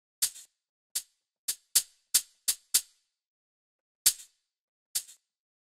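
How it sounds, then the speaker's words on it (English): Single-hit shaker sample in an Afro house production, fired repeatedly in an irregular pattern, each crisp bright shake followed by a short softer secondary rattle, alone with nothing behind it. "So it plays the initial shake and then this like secondary sound afterwards."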